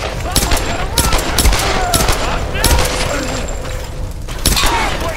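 Gunfire in Tomb Raider (2013): sharp, repeated shots and bursts crack loudly in rapid, uneven volleys with thuds, while voices talk over the shooting.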